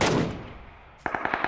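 A suppressed weapon in PUBG opens with one thudding shot that fades out, then a quick burst of muffled shots follows, each soft and clipped, heard alone with no talking.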